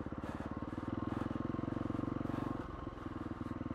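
A KTM SX-F 350 off-road motorcycle rides through a forest, its engine buzzing in a steady, rapid pulsing drone close to the microphone, with a brief dip in revs near the end.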